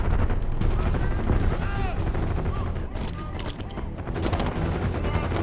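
Dense, sustained gunfire and explosions fill a Call of Duty: Black Ops 6 battle scene, rapid automatic bursts and booms layered continuously with shouted radio chatter.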